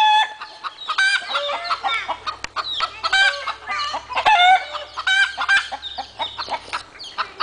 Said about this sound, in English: The chickens are rioting.